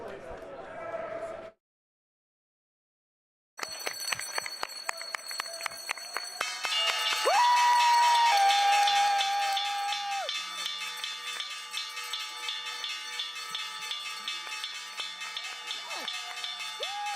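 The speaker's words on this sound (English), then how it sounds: "We now kick things out to the great city of San Francisco, California, for a very rare remote closing bell" A very rare remote stock exchange closing bell rung in San Francisco by the HumanX team: a sustained rapid metallic ringing clatter that runs on for many seconds with cheering and clapping around it, following a presenter's voice and a short silence.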